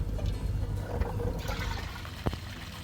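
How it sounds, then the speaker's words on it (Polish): Water pumped from barrels pours back into a garden pond, a steady splashing and trickling stream close by with a few sharper gushes. "Tutaj leje się woda z beczek, a tutaj jeszcze dodatkowo dolewamy z wodociągu."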